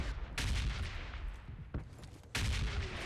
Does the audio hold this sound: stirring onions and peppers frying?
no